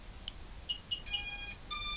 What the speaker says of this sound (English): 3 beeps, 3 flashes, easy as that.